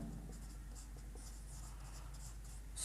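A pen writes out the two-point slope form for a math exercise. The scratching strokes run steadily and quietly on their own throughout.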